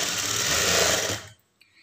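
A sewing machine stitching a blouse lining runs in a loud, steady whir for just over a second, then stops abruptly, followed by a brief soft click.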